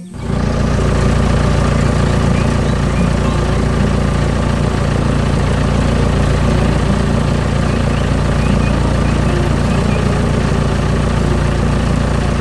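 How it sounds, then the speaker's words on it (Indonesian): A green construction machine in a farm cartoon works hard on brown soil, its engine a loud, steady low rumble with a heavy droning throb held throughout. "Mesin konstruksi hijau sedang bekerja keras di tanah berwarna coklat."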